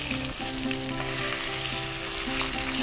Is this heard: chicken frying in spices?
yes